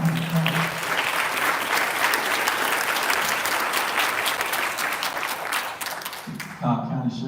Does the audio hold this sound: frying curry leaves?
no